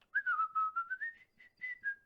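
A person whistles a short, wavering tune in a series of clear, close, breathy notes with small gaps between them, heard alone indoors.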